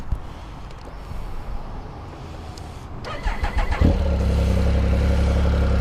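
A 2016 Triumph Speed Triple R motorcycle engine with standard exhaust cans cranks and fires up, settling into a loud, steady, burbling idle close by.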